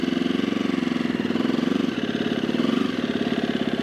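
A motorcycle engine holds a steady, throbbing idle-to-light-throttle note as the bike leans through a very tight turn, close and loud, with a brief dip in the middle and no talking.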